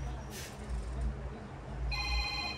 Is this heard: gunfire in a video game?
no